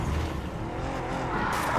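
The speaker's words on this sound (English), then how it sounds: "oh, car chase." Car chase in the Marvel's Spider-Man video game, with a steady roar of engines and road noise, tires briefly squealing as vehicles speed along, loud and continuous throughout.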